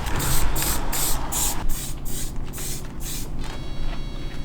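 Repeated close bursts of spray hiss from a spray paint can coating a jacket, short pulses with brief gaps, loud and without talk.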